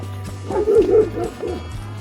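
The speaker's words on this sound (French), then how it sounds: "Le chien." A dog barks several times near a house in a village, with deep, fairly close woofs bunched in the middle of the clip.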